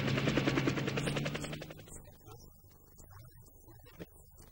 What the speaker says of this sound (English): helicopters, which I can control the landing or takeoff using the push wheel of the MIDI keyboard.